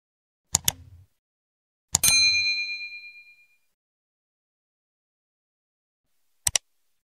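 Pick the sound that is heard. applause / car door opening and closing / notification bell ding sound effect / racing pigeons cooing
notification bell ding sound effect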